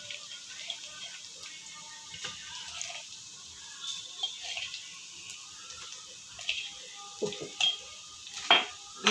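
A spoon scrapes and stirs chicken with chili powder and turmeric in a metal pot, giving soft intermittent clinks and scrapes over a faint kitchen background, with no talk.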